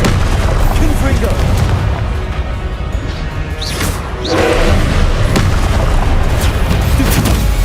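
Combat in the video game Hogwarts Legacy fills the scene with loud, dense magical spell blasts, crashes and booming impacts, with rising whooshes partway through and a brief lull before the clash resumes.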